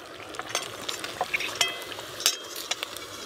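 Dhakai paratha frying in oil in a pan, with a steady soft sizzle and occasional sharp crackles and spatula scrapes, close and alone without talk.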